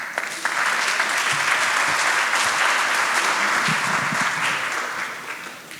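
Sustained audience applause fills a conference hall as panel speakers from a medical data event are welcomed, steady and dense throughout, fading slightly at the end.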